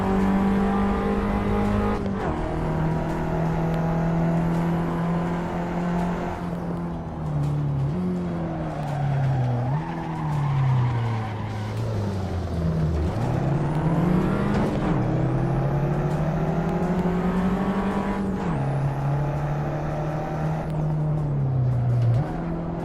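Race car engine in Assetto Corsa droning loudly and continuously, pitch climbing and dropping sharply with each gear shift, with tire squeal mixed in and no pause.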